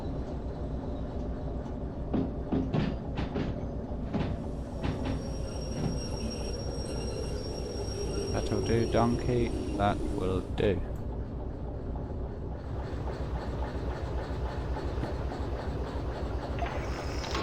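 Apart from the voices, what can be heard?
train running in the video game Derail Valley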